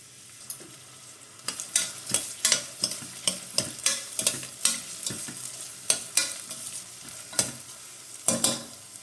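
Onions and cumin being fried in hot oil for a potato, tomato and drumstick curry, with a quiet sizzle under a steady, rhythmic series of sharp spoon-scraping strokes against the pan.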